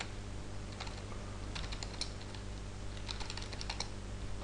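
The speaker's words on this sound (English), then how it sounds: "And we're typing in the IP address." Keys clatter on a computer keyboard in short, irregular bursts as an IP address is typed to connect to a Raspberry Pi, faint under a steady electrical hum.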